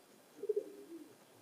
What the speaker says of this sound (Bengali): এটা আমার একটা কাজ করা কবুতর